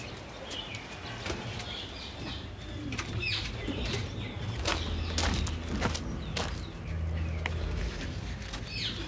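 Pink pigeons in Mauritius make soft low cooing amid a dense outdoor chorus of other birds calling and chirping, with occasional wing flaps, all steady and fairly loud.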